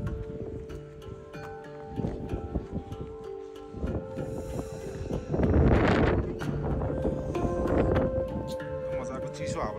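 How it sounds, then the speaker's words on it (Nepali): Cold wind gusts across a mountain road in Mustang, Nepal, as a steady rumbling buffet that swells into a stronger gust midway, with a person talking over it. "मजाको चिसो हावा लागि चलिरहेको छ"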